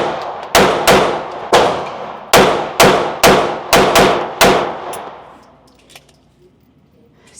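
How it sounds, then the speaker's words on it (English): A Glock 43x pistol firing dirty ammo fires ten sharp, loud shots in quick, slightly uneven succession, each one ringing off briefly before a quiet tail. "let's go in first with the Glock 43x, 10 shots with the Afterburner and Ramjet"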